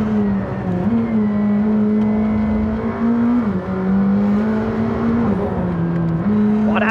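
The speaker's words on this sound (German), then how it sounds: "Boah, das ist so schnell hier im McLaren Senna" McLaren Senna sports car accelerating hard on the Nordschleife, heard from on board as a loud, steady engine drone that rises and drops with quick gear shifts, no talk.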